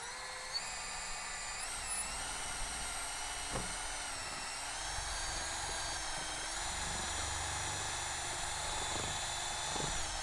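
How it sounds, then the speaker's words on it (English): A power drill fitted with a mixing paddle stirs epoxy, whirring steadily at a constant high pitch, close and continuous, with occasional knocks of the paddle against the container. "We're going to take our drill and our paddle, and we're going to give it a good mix."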